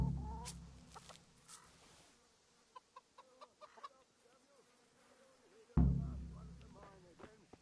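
In the medieval world of Kingdom Come: Deliverance, chickens cluck in short scattered bursts over a quiet farmyard background, with one louder flurry of clucks near the end.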